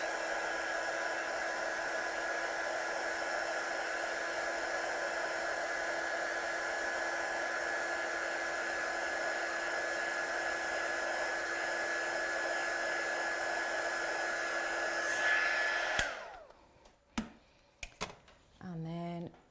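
A hair dryer blows steadily and loudly for about sixteen seconds over a watercolour card piece, then shuts off, leaving faint handling sounds.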